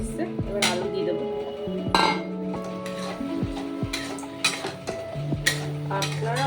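Potatoes go into a frying pan and get stirred, with metal utensils repeatedly clinking and scraping against the pan in an uneven rhythm, close up, alongside faint sizzling.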